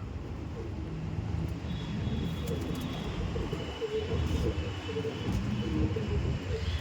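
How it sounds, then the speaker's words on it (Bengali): Kamagar Teddy and Kaldom loft pigeons coo in soft, repeated low calls amid a busy, rustling background of birds nearby, with no one clearly speaking. "খুব সুন্দর পায়রা আছে।"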